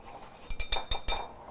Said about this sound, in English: I'm just gonna whisk all this together.